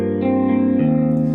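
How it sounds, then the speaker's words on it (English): Electric guitar patch on a Yamaha YC stage keyboard with extra chorus added, two sustained notes with a shimmering, slightly wavering tone, close and fairly loud with no voices. "maybe add a little bit more chorus yet"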